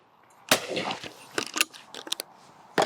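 A 20 bore shotgun fired at clay targets outdoors: one sharp loud report near the start, a few fainter cracks and clatters in the middle, and another sharp shot at the end.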